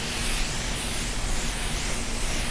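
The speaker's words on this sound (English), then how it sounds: "I'm going to spray this way so I can contain the sealer." A steady, even hiss of a spray gun applying sealer to a car at light partial trigger runs unbroken throughout, close and fairly loud with no pauses.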